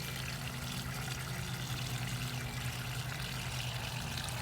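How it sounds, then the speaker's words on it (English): A small garden water feature trickles and splashes in a steady, even wash, fairly close and continuous, with a low hum underneath and no talking. "There's a little water feature."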